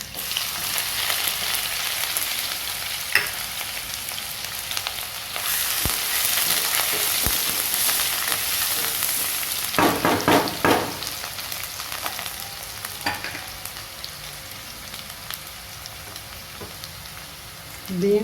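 Chopped onions fry in hot oil with garlic and ginger for vegetable fried rice, giving a steady crackling sizzle throughout with occasional louder bursts as the pan is stirred.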